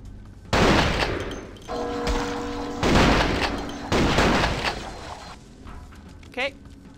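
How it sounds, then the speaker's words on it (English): Gunfire in the Vampire: The Masquerade - Bloodlines video game comes as several loud, rapid bursts and volleys separated by short gaps, with tonal game sounds and a brief sharp effect near the end. "Someone's shooting me, though."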